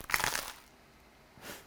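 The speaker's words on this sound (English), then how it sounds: "That was such a violent crunch" A single loud, sharp crunch of biting into a crisp homemade high-protein vegan meal, close and alone, followed by a faint second crackle.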